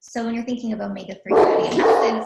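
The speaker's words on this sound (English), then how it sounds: "sorry if you can hear my dog in the background" A dog barks and yips in the background, repeated sharp barks layered under a woman's continuous close speech.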